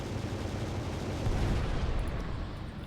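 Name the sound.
kinetic guns firing from a battleship, video game Final Theory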